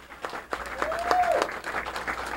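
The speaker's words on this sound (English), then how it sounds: "a round of applause, please, for our runner-up, Tim Lipke" Applause from a bowling audience on a TV bowling show, honouring the runner-up after a final; steady clapping fills the short stretch, with a brief whistle-like tone rising in the middle.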